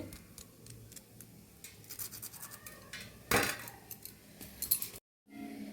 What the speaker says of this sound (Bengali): এ কতটা আওয়াজ শুনি তো বুঝতে পারছেন কতটা মুচমুচে হয়েছে